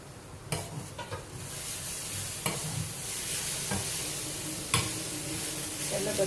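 Chana dal sundal being stirred with grated coconut in a pan, with soft scraping and a faint sizzle underneath, punctuated by several sharp clinks of the spoon against the pan and no talking.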